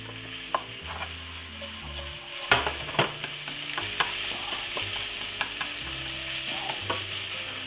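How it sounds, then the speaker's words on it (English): Bacon pieces fry in a pan under a steady sizzle, broken by sharp knocks and scrapes of a utensil stirring them, with a loud clatter near the middle. "So bacon pieces are going in, getting stirred up."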